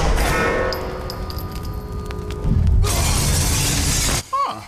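A loud shattering of glass in an action scene from the film Don 2, a dense bright crash with debris that falls away abruptly, followed by a short whooshing tail.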